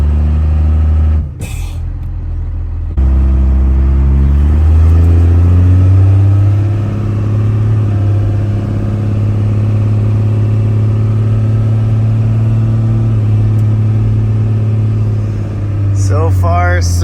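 A 1992 Dodge D350 truck with a Cummins diesel engine driving, a loud, steady low drone that climbs slowly as it picks up speed, heard from inside the cab with a brief clunk early on.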